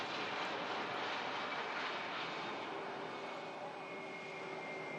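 An Airbus A321 airliner arrives after a 3.5-hour flight, a steady broadband jet roar that holds constant and loud throughout, with a faint tonal whine emerging toward the end.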